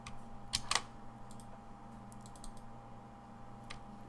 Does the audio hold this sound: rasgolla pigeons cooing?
no